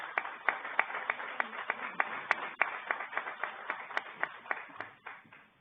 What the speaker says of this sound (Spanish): le vamos a brindar un gran aplauso al doctor Franco Mondino.